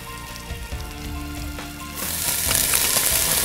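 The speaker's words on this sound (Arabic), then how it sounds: "بدنا نزيد البصل." Onions sizzling as they are added to a hot pan with oil, a faint crackle that suddenly swells into a loud, continuous hiss and spatter.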